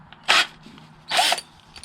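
Two short bursts from a TOPSHAK TS-ED3 20V 10mm cordless electric drill, each lasting about a tenth of a second with a quiet pause between, close and fairly loud.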